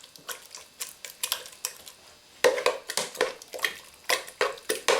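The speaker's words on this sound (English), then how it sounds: "we're going to mix until this butter is dissolved" Butter being stirred into a heated pig lips, pear and pumpkin pie filling, with rhythmic tapping and scraping strokes of a utensil against the bowl, close and fairly loud.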